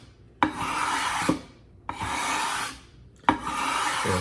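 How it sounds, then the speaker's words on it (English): A knife sharpening stone being flattened by rubbing, three long, close, steady abrasive scrapes, each starting with a sharp onset and broken by short pauses. "flattening the stone, removing the imperfections"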